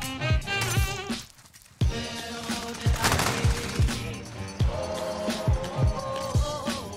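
Gunfire in Modern Warfare, with bursts of rapid shots and repeated punchy reports through a busy mix of game sound and music.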